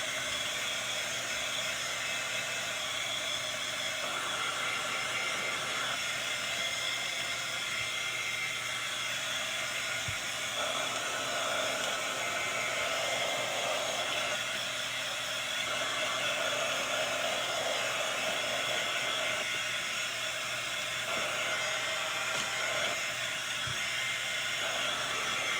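A hair dryer blows steadily and loudly on a potion bottle, a continuous airy whir with slight shifts in tone as it moves, with no talking.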